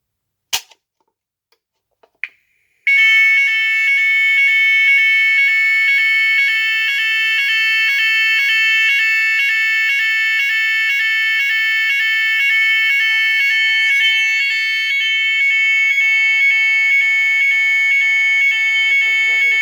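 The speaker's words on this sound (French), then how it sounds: "je vous montre comment ça se passe le déclenchement d'alarme" A Neutronic TT3-MaL autonomous sound and light alarm unit goes off after a couple of sharp clicks, then holds a loud, piercing, steady electronic tone that runs continuously to the end with no voices.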